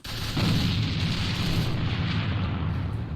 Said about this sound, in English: That nade doesn't do too much.